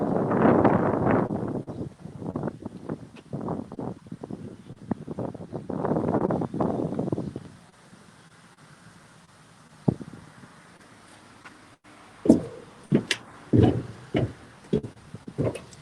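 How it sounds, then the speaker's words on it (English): Gusty wind buffets the microphone in strong bursts for several seconds outside a senior living residence entrance, then dies down to near quiet broken by a few sharp clicks and knocks. "it was a little windy out"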